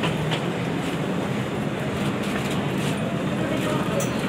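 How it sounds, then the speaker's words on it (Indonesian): Ride aboard an elevated airport train departing Terminal 2 at Soekarno-Hatta, a continuous rumbling cabin drone with faint rhythmic track clatter, steady and close throughout. "Nah, ini kita udah naik kereta layang ya."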